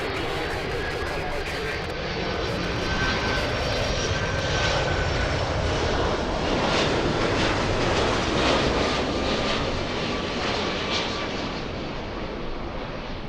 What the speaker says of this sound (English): This is the 767 flying in from JFK, Delta 747.